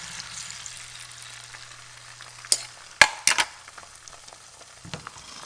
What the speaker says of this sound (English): I got a pan with avocado oil on medium heat. And we're just going to put that in.